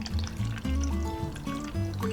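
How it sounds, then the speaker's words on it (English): Room-temperature water pours into a container to mix collagen powder, a continuous close liquid stream with a shifting pitch as it fills, with no talking over it. "I'm gonna use room temperature water as well to mix it up"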